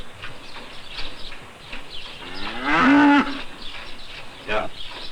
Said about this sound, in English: The cows also do not like to wait long to be milked.